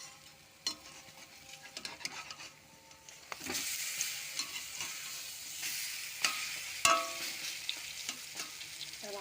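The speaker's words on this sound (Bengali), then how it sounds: "1 পিঠ ভাজা গেলে আর 1 পিঠ ভাজবো।" Chana dal fritters fry in a pan of oil, a steady sizzle that grows louder midway as one is turned over, with sharp scrapes and clicks of a utensil against the pan.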